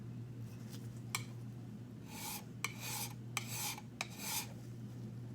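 A #4 plane iron rubbed on an inexpensive diamond plate, producing quiet rasping strokes in uneven bursts with a few sharp ticks, over a low steady hum.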